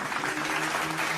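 Classroom students clap for group 3 after a small-group discussion presentation, a brief burst of dense, close applause filling the whole moment.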